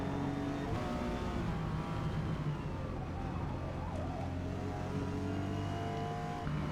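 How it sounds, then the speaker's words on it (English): A Toyota Supra GR engine in Forza Motorsport climbs through the gears toward sixth on a race track straightaway, a loud continuous engine drone whose pitch shifts with each gear change. "Just going up through the gears, all the way up to 6th gear on the back straightaway."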